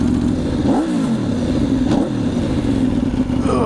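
A heavily modified 2010 Aprilia RSV4 sport bike engine revs hard and close, with two sharp blips climbing and falling in pitch over a steady loud idle rumble, no voices.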